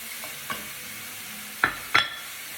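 Shrimp and mushrooms frying in a pan give a steady low sizzle, with a few sharp scrape and stir knocks from a utensil against the pan.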